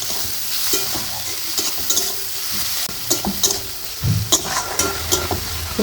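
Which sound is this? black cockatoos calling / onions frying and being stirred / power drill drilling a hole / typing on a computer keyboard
onions frying and being stirred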